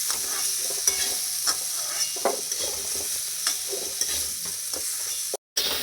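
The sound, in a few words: potatoes frying in a pan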